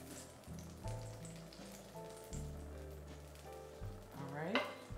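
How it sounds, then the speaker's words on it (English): Butter sizzles in a warm pan at the start of a turkey pot pie filling, a soft steady hiss running beneath louder background music. "the pan is warm. So we're gonna get our butter in"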